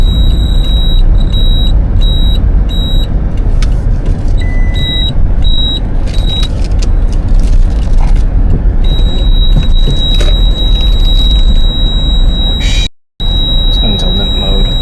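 Car warning alarm beeping repeatedly as the car goes into limp mode, a loud, steady high electronic beep pattern over a continuous road and engine rumble, briefly cut near the end, with talking throughout.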